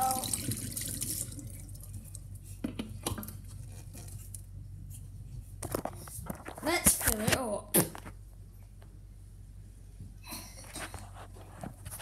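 Water runs and splashes into a large container with its lid on, a tap-like stream with patter and drips, loudest in a short burst near the middle, while people talk throughout.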